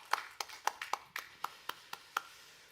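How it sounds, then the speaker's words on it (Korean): A church congregation gives sparse, uneven hand claps after a Sunday service, about ten distinct claps spread over a few seconds, fairly quiet and close, with no talking. "우리 자매님들께 마음에서 우러나는 감사의 박수를 한번 드렸으면 좋겠습니다."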